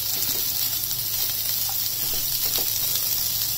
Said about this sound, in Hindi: बस कुछ ही सेकंड के लिए हमें ये मसाले को भूनना है